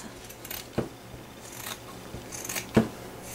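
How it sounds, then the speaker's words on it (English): Fabric scissors trim excess cloth from the sewn edges of a ruffled Christmas bag, with two distinct close snips a couple of seconds apart against quiet room noise. "I can come back and just trim"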